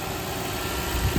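A Lexus engine with a misfire fault runs at a steady idle in a brief, continuous low rumble, with a slight rise in low-end loudness toward the end.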